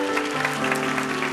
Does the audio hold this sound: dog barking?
no